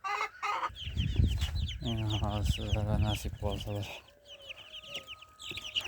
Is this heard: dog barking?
no